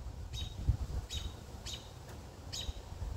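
Robins give repeated short sharp calls while dive-bombing a kestrel that is eating prey, four distinct chirps spaced evenly over a low outdoor rumble, moderately near.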